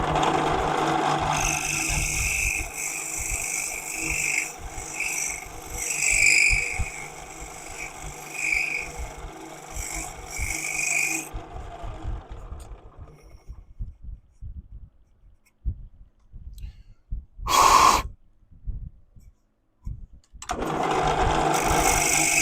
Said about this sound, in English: I need to put a fresh burr on that.